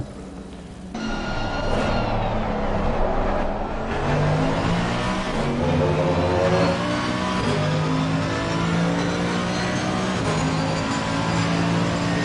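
GT race cars in the racing game Assetto Corsa Competizione lap the Spa-Francorchamps circuit, engines roaring loud and steady, rising and shifting in pitch as they accelerate through gears, with no speech over them.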